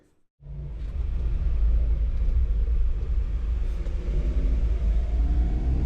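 A car, loaded with luggage in the Philippines, starts moving after a moment of quiet, then a low, steady engine and road rumble fills the cabin for the rest of the stretch.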